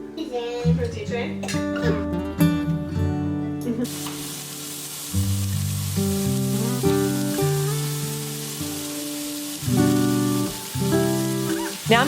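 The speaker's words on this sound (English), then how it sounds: "So I'm gonna fry up some fried eggs for breakfast this morning" Eggs frying in a pan for breakfast give a steady soft sizzle running through the clip, largely under loud music.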